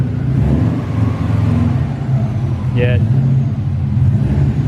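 A Subaru Impreza's engine rumbles low and steady as the car creeps up onto a ramp, close and fairly loud, with a brief voice over the drone.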